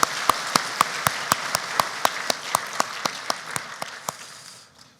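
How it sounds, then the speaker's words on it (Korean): During a Christmas Day service, a church congregation applauds to welcome the church school children. Even, rhythmic claps ring out about four times a second over a soft bed of applause, then fade at the end. "우리 장년들은 우리 교회 학교 친구들을 환영하는 박수를 한번 하겠습니다."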